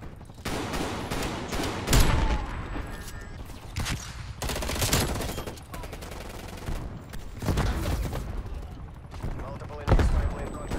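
Assault rifle gunfire in Call of Duty Cold War comes as repeated bursts of rapid automatic shots, some sharp and loud and some more distant, with game noise and occasional voices between them.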